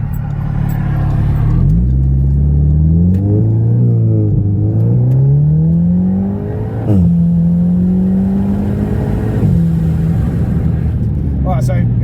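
An Audi S3 8V Black Edition with about 400 bhp launching hard, the exhaust rising through rapid gear changes with loud, close engine drone climbing and dropping, then pulling again with a brief crackle.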